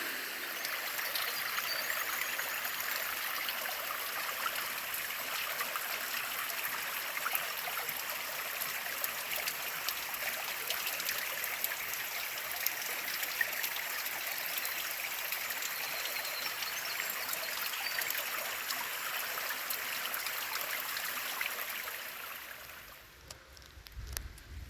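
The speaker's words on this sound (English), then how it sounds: "That is a tributary to the creek that we were on." A small creek tributary deep in the woods flows steadily with a constant, close rushing and trickling wash, unbroken for most of the stretch before easing near the end.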